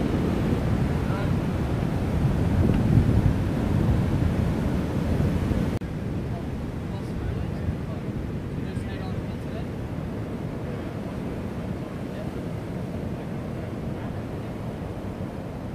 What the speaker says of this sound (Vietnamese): Sóng càng mạnh rồi đó.